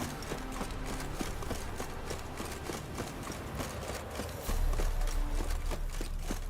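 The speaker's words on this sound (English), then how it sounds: "I'm gonna take a horse." Steady, rapid clip-clop of galloping horse hooves in The Witcher 3: Wild Hunt video game, loud and close, rhythmic throughout with a deeper rumble joining near the end.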